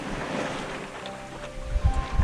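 Mid-Atlantic ocean on a sailboat crossing from Canada to Bermuda: a steady wash of waves and wind rushing across the microphone, with low buffeting thumps from gusts near the end.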